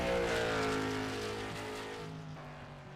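The number 40 race car at Myrtle Beach accelerates down the backstretch during night pole qualifying, its engine a steady, droning roar with strong harmonic tones that slowly fades as it moves away.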